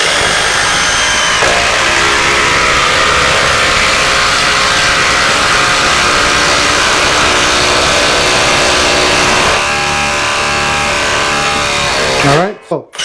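Makita 40V XGT rotary hammer drilling a hole, a loud, continuous grinding and hammering roar that runs for about twelve seconds before stopping abruptly.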